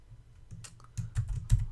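Keys on a computer keyboard typed in a few short bursts of clicks, close and fairly quiet, with no talking.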